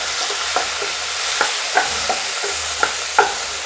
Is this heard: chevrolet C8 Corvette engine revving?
no